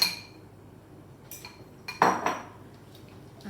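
A spoon clinks against a bowl while mixing vanilla extract into batter, giving a few close, bright knocks and scrapes in an otherwise quiet kitchen.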